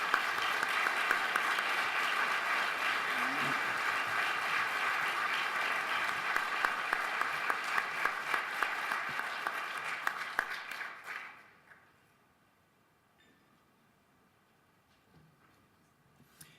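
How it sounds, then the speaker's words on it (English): A large audience applauds finalists at an awards ceremony for chief financial officers in Chicago, giving sustained, even clapping from a roomful of hands that fades out around eleven seconds and leaves near silence. "Let's give them an applause"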